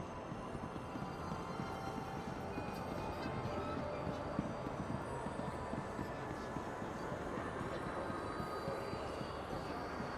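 A passing train in a video game rumbles steadily and broadly for the whole stretch, with a continuous rail roar and faint metallic squeal, fairly loud and alone without speech.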